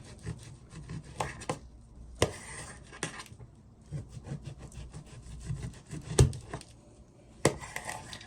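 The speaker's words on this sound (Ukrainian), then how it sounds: "Сало нарізаю шматочками так по 4 см." A knife saws and scrapes through pork fat on a board, repeated slicing strokes with occasional knocks against the surface.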